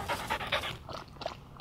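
A puppy pants rapidly and close after chasing squirrels through the woods, a quick rhythmic huffing that trails off into softer breaths.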